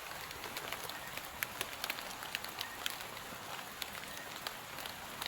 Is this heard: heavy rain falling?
yes